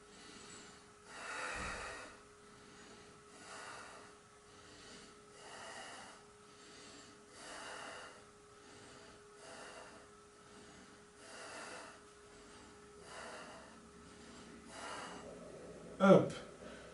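Rhythmic breathing during a floor yoga stretch, about eight slow airy breath cycles repeating evenly every couple of seconds, soft and close, ending with a brief vocal sound.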